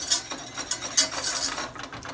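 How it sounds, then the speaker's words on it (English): A whisk clinks and scrapes against a pot, mixing a broccoli cheddar soup base of flour and fat in quick, uneven metallic strokes, close and fairly loud, with no talking. "Start whisking this."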